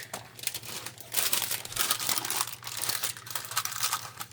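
Parchment paper crinkled and handled by hand in a kitchen, irregular close crackling and rustling that swells and fades over several seconds, moderately quiet, with a faint low hum behind.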